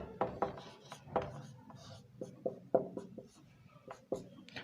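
Chalk scratches out a formula on a board in a series of short, uneven strokes and taps, close and fairly crisp, with brief pauses between strokes.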